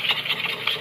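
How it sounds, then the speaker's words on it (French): An electric hand mixer whirs through meatloaf ingredients with mustard in a bowl, giving a brief, close, pulsing buzz of less than a second. "Puis ensuite, on va mixer tout ça."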